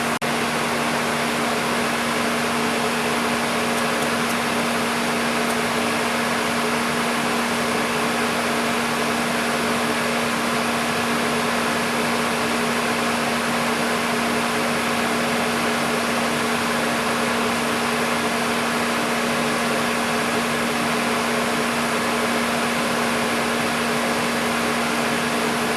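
Milling machine cutting the outer face of a brake disc spacer, a loud steady mechanical drone with a constant hum and broadband whir, no voices.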